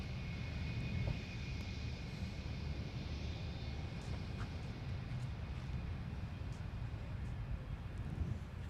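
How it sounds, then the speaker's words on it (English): An American Airlines Boeing 737-800 from Dallas touches down on the south parallel runway, a steady distant jet roar with a broad rumbling wash that holds at moderate level throughout, no voices. "Here's American Airlines from Dallas now touching down on the South Parallel, the 737-800"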